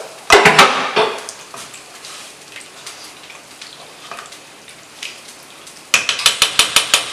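Sweet Italian sausage and ground beef stirred in a pan, with sharp clusters of utensil scrapes and clinks against the pan at the start and end and a soft sizzle in between, close and loud.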